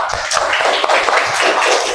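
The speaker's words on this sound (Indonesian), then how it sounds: "Beri tepuk tangan untuk kalian semua." A classroom of students claps together in dense, fast applause, steady and fairly loud throughout with no single voice standing out.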